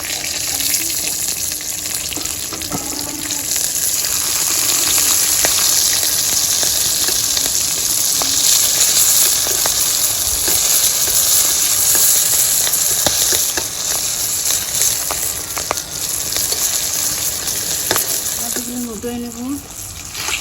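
Brinjal slices fry village style in a pan, a steady bright sizzling hiss with occasional clicks of a utensil, while a person speaks briefly over it.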